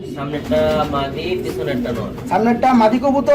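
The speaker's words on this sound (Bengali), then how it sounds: "এটা হচ্ছে ইংলিশ মডেনা কবুতর অ্যালমন্ড কালার" Almond-coloured English Modena pigeons make soft, low cooing at close range, mostly mixed under steady conversation throughout.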